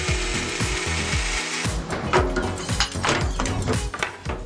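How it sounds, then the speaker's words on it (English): Handsaw strokes cutting through wood for a Star Wars Jedi medical droid cosplay build, a steady rhythmic rasping of repeated back-and-forth strokes, close and fairly loud with no talking. "Cut through a little bit on both sides,"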